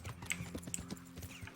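Horse hooves clip-clop in the medieval video game Kingdom Come: Deliverance, a quick run of close, even hoofbeats on the ground with a faint game ambience behind them and no voices.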